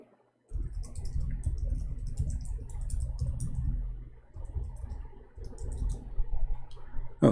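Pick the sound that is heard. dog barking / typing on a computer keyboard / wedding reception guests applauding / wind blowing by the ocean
typing on a computer keyboard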